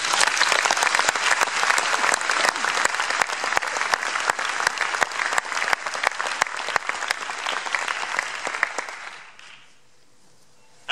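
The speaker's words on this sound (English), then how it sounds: "Please, an applause for all of them." Audience at the Europa Nostra award ceremony in Vienna applauds in dense, sustained clapping that fills about nine seconds, then tapers off into near silence.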